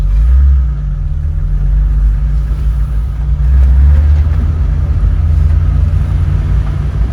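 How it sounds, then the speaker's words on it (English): A BMW E30 engine idles steadily while warming up after coolant is topped off, a continuous close low rumble with a few slight swells and no talking. "I want the car to warm up a little bit"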